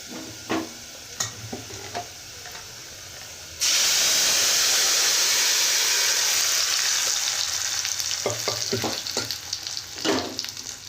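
Lentils drop into a pan of browned semolina while ridge gourd dal is being made, and a sudden loud sizzling hiss flares up and holds steady. Softer clinks of stirring come before and after the burst.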